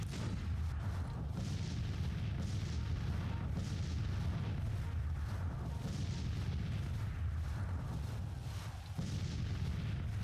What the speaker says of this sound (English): Open fire on these damn artillery pieces, guys.